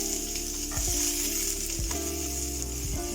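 Onions sautéing in a pan for a bitter gourd curry hiss with a steady, moderate sizzle, broken by a few dull thumps of a spoon stirring.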